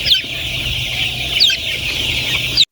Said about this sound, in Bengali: আজকে সকালে সোনালী মুরগিকে খাবার দেওয়ার সাথে সাথে তারা একবারে ভাঙে চুরে লাগছে খাবার খাওয়ার জন্য।